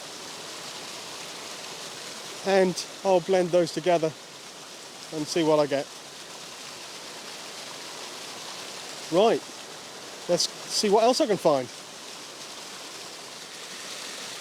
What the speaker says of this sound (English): when I came down to the waterfall down here